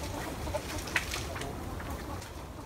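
Chickens clucking faintly near nest boxes inside a greenhouse, a few soft low clucks over quiet background hiss, with one brief slightly louder note.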